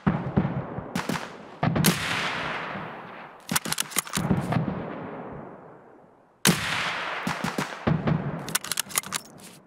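Gunfire in Escape From Tarkov, a shoreline sniping match: three loud separated bursts of rapid shots, each followed by a long decaying echo, with no voices.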